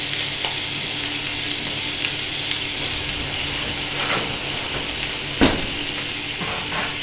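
Pork sizzling on a preheated hot tray fresh from the oven, a steady loud frying hiss with occasional crackles and pops, close and alone without talk.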